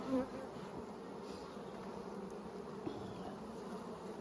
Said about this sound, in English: Lots of young nurse bees hatching there, so this hive's going really nicely.